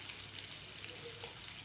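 Chopped onions with a pinch of salt fry in a pan, giving a steady, quiet sizzle with a soft, even hiss throughout and no voices.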